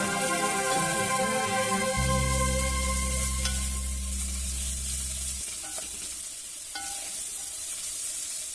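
Steady close sizzling of vegetables frying in a hot pan, with occasional stirring clinks and a low hum underneath, no talking.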